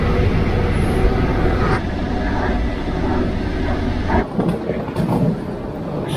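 A train at Hamburg's main railway station makes a loud, steady rumble that fills the clip, dipping and shifting slightly after about four seconds. No voices stand out.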